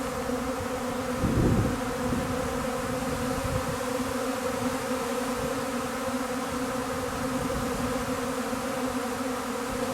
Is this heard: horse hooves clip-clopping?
no